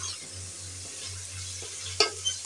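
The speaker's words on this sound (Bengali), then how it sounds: "এখন এগুলো আমি ভালোভাবে একটু কষিয়ে নেব।" Spices sautéing in oil for egg biryani give a steady, quiet sizzle with a low hum, and a couple of brief louder scrapes of stirring near the end.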